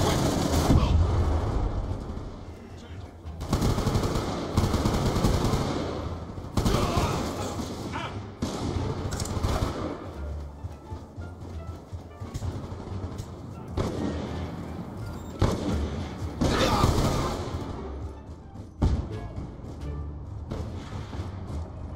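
Call of Duty Black Ops 2 gameplay with repeated bursts of gunfire and heavy booming shots over a busy game background, with voice lines from the game mixed in.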